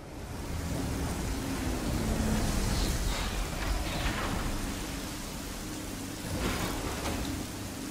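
Steady, dense rain in the video game Metroid Dread pours continuously, with low rumbling thunder rolling underneath and a few brighter surges, loud and without pause.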